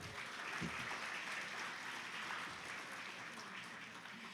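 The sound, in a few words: applause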